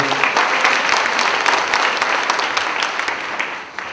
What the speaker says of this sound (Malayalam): കൈയടിച്ച നന്ദി പറയട്ടെ